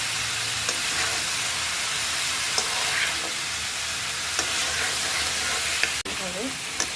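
Young jackfruit sautés in a pan in a constant, fairly loud frying hiss. A few soft stirring knocks come through, and there is a brief break near the end.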